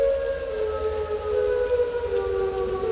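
Siren Head's wail in a horror video game, a loud, sustained siren tone with steady harmonic layers holding without a break and drowning out everything else.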